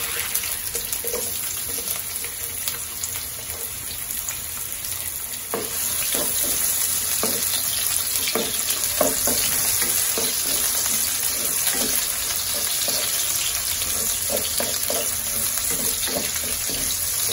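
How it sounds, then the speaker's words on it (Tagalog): Onions sautéing in hot oil in a pan for chicken caldereta, a steady broadband frying sizzle running throughout with light clatter of stirring, fairly close and moderately loud, no talk. "So pag mainit na ang kawali, ang mantika pala, Lagay na po natin ang sibuyas."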